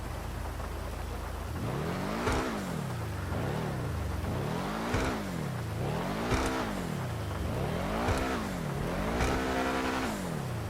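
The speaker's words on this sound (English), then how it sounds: "Let's take a listen to that engine." Benefactor SM722 sports car engine in GTA Online revving repeatedly, rising and falling in pitch about every one and a half seconds, loud and close with no talk.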